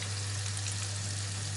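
Chicken deep-frying fully submerged in a pot of hot oil gives a steady, dense sizzle that stays even throughout, with a constant low hum underneath and no talk.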